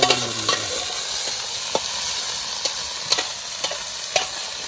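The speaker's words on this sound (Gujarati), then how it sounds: "કમ્પ્લીટ હલાવી દે મિક્સ કરી દે." Green turmeric curry being stirred and mixed as it fries in a pan, a steady broadband sizzle underlying roughly eight distinct clicks and scrapes of the spoon spaced about half a second apart, close and fairly loud with no voices.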